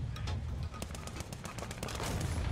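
Rapid bursts of gunfire crackle over a dense rumbling background in War Thunder, around a German Nashorn (SdKfz 164) tank destroyer, shots landing in quick uneven succession with no voices.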